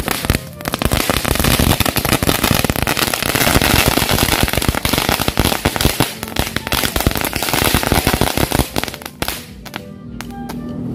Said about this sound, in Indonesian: Ini dia merconnya